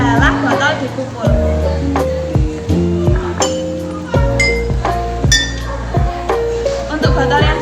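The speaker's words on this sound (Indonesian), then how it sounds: "Untuk percobaan selanjutnya adalah botol dipukul." Glass bottles holding different amounts of water are struck one after another in a physics sound-wave experiment, giving a steady run of bright, ringing clinks at varied pitches, close and loud, with a voice talking underneath.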